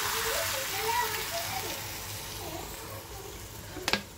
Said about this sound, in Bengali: এবার আমি ঢেলে দেব দুধ, আর একটু নাড়াচাড়া করে নিই।